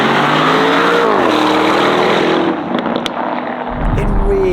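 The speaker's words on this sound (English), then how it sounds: "It really is a gem, that 4-litre twin turbocharged V8 up front" Black Lamborghini Urus S Esteso widebody by Novitec, its 4-litre twin-turbo V8 revving: a loud, sustained engine drone whose pitch climbs and dips, ending in a deep low-end burst.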